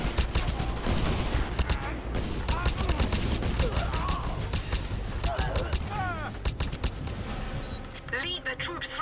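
Rapid gunfire in Just Cause 2 during a canyon battle, loud bursts and fusillades crackling continuously with sharp individual shots, under game ambience and scattered voices.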